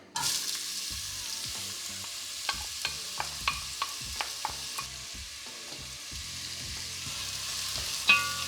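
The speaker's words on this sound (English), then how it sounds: "the oil's hot, so we're gonna start with the celery and carrots because they take a little bit longer" Celery and carrots fry in hot oil with a steady sizzle, punctuated by a run of sharp, evenly spaced taps and scrapes from stirring, close by.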